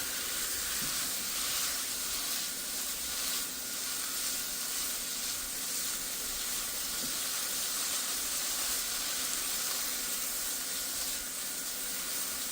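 Butter sizzles in a frying pan with sirloin steak, a steady, even hiss and crackle that holds at a constant level with no voices over it.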